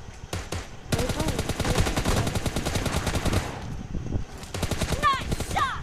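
Rapid automatic gunfire in a team deathmatch video game shootout, loud sustained bursts rattling almost without pause, with a brief voice heard near the end.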